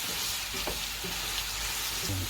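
Green lentils fry with spices in a pan for a plant-based chili non-carne, giving a steady close sizzle with soft stirring knocks and no talk.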